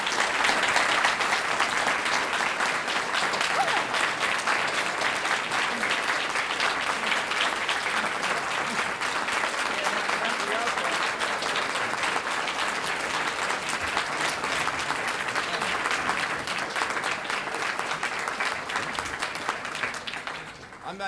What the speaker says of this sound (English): I'm not used to people standing and applauding when I'm at the podium